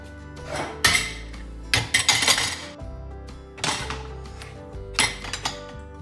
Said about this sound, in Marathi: इथे कुकर पण ठेवून टाकते मी स्टीलचं.